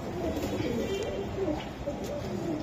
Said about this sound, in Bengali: এই যে একটা পাইট কবুতর